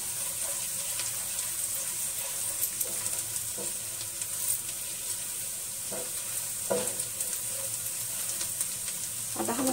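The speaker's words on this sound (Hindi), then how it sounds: "फिर हम इसको अच्छे से सौते करेंगे।" Chopped ginger sautés in a pan for a dal tadka, a steady soft sizzle with occasional stirring scrapes and clinks, close and continuous with no talk.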